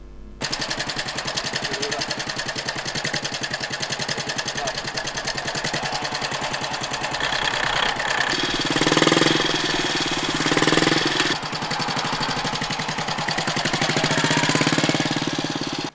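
A restored 1951 BMW motorcycle engine runs steadily and fairly loud, a continuous rapid knocking idle with two short swells in revving partway through, with no talk over it.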